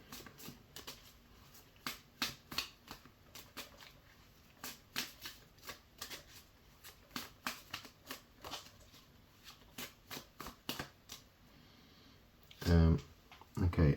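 Tarot cards handled and drawn, giving a run of crisp, irregular card flicks and slaps close by, ending in a brief louder rustle.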